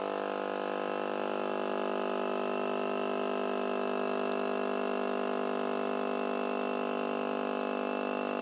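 A pump running steadily with water flowing, a constant even hum and whine at moderate level with no talk.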